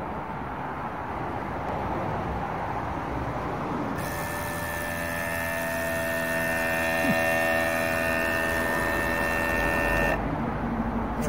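A small vacuum pump draws air out of a canning jar lid over stored beans, a steady tonal whine and hum running for several seconds, then cutting off.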